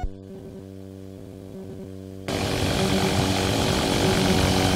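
Small trike ultralight aircraft engine on a runway, starting as a low buzzing idle with rhythmic pulsing, then abruptly rising to a loud, steady full-power roar as the throttle opens.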